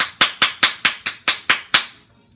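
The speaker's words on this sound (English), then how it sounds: "Alright, I'll clap." Eight sharp hand claps ring out close by in an even, steady rhythm, each one crisp and bright, ending in quiet.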